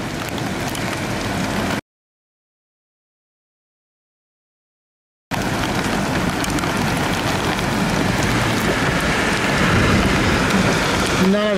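Small hail, none bigger than a thumbnail, pelting down in a thunderstorm in the Southern Highlands of New South Wales, Australia: a loud, dense, continuous patter that drops out briefly in the middle.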